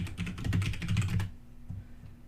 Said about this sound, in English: I will type in workout glove.